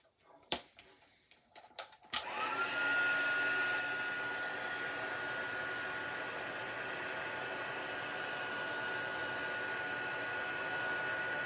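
After a few soft clicks and handling noises, an embossing heat tool switches on and blows hot air in a steady, loud whooshing hum with a faint high whine, running continuously to the end.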